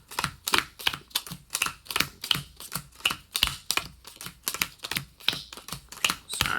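Playing cards being dealt one at a time onto piles for a card trick, giving a close, quick, even run of crisp snapping taps with no voices over them.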